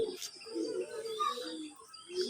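Soft, low coos of Hyderabadi blue pigeons and squabs repeat close by, with a faint chirp and light background hiss.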